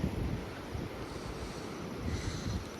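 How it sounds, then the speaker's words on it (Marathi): Wind gusts outdoors in green hill country near a waterfall at Mahabaleshwar, a steady low broadband rush with slight swells, mostly buffeting the microphone, with no voices. "फुल नेचर मस्त हवा पण सुटली आहे"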